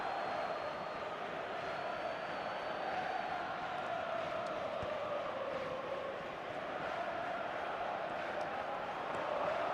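Football video game stadium crowd roaring steadily throughout, a dense continuous wash of cheering and chanting at a constant level, with faint commentary voices beneath.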